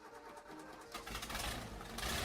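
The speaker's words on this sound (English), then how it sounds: "turn on the car's ignition to start the vehicle" A car engine started from a portable jump starter battery pack cranks and catches, rising into a loud, rough running roar close by.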